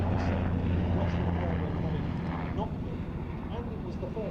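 Westland Royal Navy anti-submarine helicopter with gas turbine power flying past at an airshow, a steady droning engine and rotor roar that gradually thins, with a commentator talking over it.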